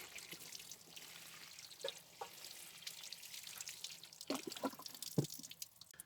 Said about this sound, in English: Now we'll give them a good watering.